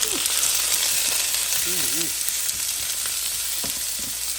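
Peppers and onions frying with sausage in a pan, a loud, dense, steady sizzle with a few faint tonal squeaks and soft knocks beneath it.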